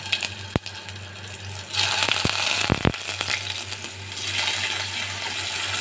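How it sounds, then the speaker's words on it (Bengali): Diced potatoes frying in hot oil with dried red chilli and whole cumin, giving a steady close sizzle that swells louder midway, broken by a few sharp metallic clinks of a spoon against the pan. "সেগুলো আমি একটু লাল করে ভেজে নেব আলুগুলো আমি এভাবে লাল করে ভেজে নেব"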